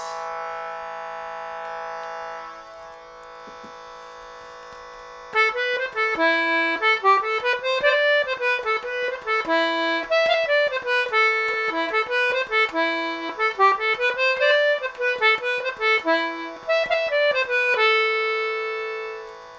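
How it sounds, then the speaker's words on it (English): A shruti box app's reedy, steady drone sounds alone for a few seconds, then a louder wavering melody of sustained reed tones plays over it until the end. "Or there's an app I found that mimics a shruti box"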